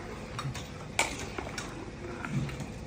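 Utensil scraping and clinking against a pan as a meat curry with curry leaves is stirred, a few sharp metallic knocks amid soft shuffling.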